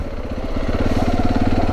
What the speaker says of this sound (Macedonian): Моторот ќе си го несам таму.